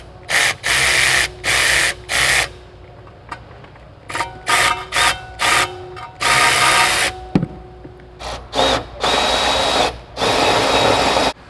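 A power tool fires in short repeated bursts, stopping and starting, as bolts are driven in to secure an X-pipe exhaust section under a 2020-plus Corvette C8, loud and close with brief quiet gaps between.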